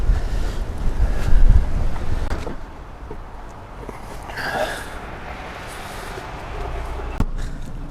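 Strong wind gusting outdoors at a wooden gambrel greenhouse frame build site, loud buffeting rumble early that eases into a steadier rush, with a few faint knocks and creaks.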